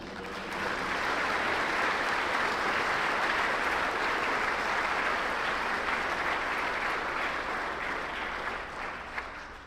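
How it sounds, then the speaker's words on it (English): An audience at an annual student design competition banquet applauds, a dense, steady wash of clapping lasting nearly ten seconds before tapering slightly. "Let us please give a round of applause to the Platinum sponsors and ASABE for their support."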